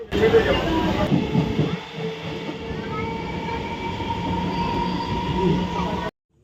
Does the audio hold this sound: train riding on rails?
yes